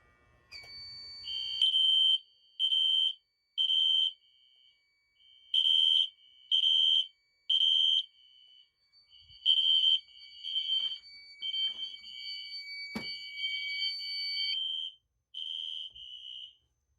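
A smoke detector test sets off a fire alarm system in a shop, sounding a loud, regular series of electronic beeps that turns into a longer continuous tone with short gaps, alone and close by.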